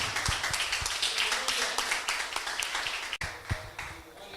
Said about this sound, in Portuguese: E você que pode aplaudir o Senhor,